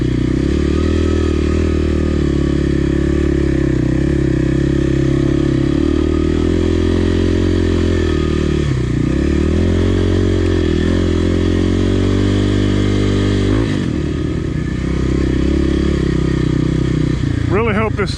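Kawasaki KLX 300R dirt bike ridden on trails, a loud steady engine drone close up with brief revs and dips, gear clatter and scraping underneath.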